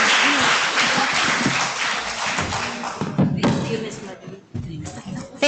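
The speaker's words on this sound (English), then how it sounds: "Can you please give them a round of applause?" An audience at a general membership meeting breaks into dense applause that thins into scattered clapping and thumps, with voices talking through it.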